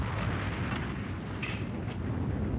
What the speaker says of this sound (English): Sparkle, I've just picked up a huge explosion on the southern tip of the planet